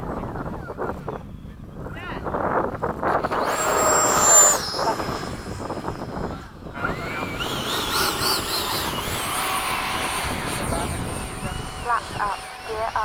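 An FMS 70mm F/A-18 RC jet's ducted-fan whine rises as it takes off and flies overhead, a steady airy roar with wind buffeting, while people talk nearby throughout.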